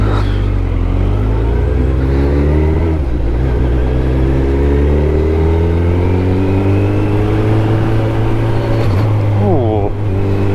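A motorcycle engine idles steadily while warming up, a continuous loud low rumble with a couple of rising revs toward the end, close by.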